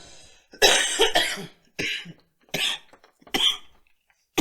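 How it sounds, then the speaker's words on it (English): Several loud, harsh coughs come close up in separate bursts, with short silent gaps between them and no talking. "I don't want to talk over your cough"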